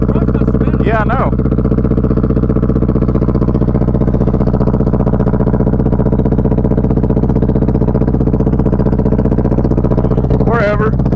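A single-cylinder motorcycle engine runs rich at a steady, loud, close idle with an even thumping pulse, and voices talk briefly at the start and the end.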